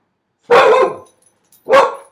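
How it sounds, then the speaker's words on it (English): A dog gives two sharp barks indoors, close and loud, the first longer and the second after a brief pause, with silence around them. "Even my dog thinks that's dumb."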